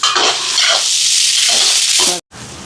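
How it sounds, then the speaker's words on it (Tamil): Garlic sautéing in a pan for a Sri Lankan almsgiving meal, a loud, close, continuous sizzle and hiss that cuts off abruptly near the end and then resumes more softly. "வெள்ளைப்பூடு சேர்க்குறேன் இருக்கும் நல்லா வதங்கட்டுக்கும்"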